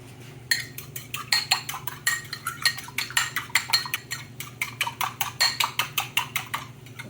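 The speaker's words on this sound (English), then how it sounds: "while your vegetables are cooking, you beat your egg up" An egg is beaten in a bowl with quick, rhythmic clinks of utensil on bowl, a steady run of close strikes over a faint low hum, with no voices.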